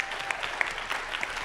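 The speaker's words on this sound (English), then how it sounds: "Would you applaud to this young man and welcome him?" Church audience applauding to welcome a new young pastor, a short burst of many hands clapping at moderate level with a few distinct near claps.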